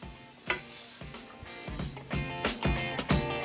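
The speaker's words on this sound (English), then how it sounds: "I'm just gonna lay them right in the pan. Let them sizzle away." Frozen pork patties laid into a dry pan with no butter or oil, giving bursts of crackling sizzle and a few sharp clatters as they settle, fairly quiet and close, with no talking.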